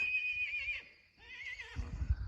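A pony whinnies loudly and close, a long high neigh that fades, then a shorter second call, followed by low snorting and shuffling noises.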